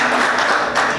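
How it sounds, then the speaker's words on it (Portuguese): A church congregation claps together, a loud, dense round of applause that stays steady and close. "Vamos aplaudir o Senhor."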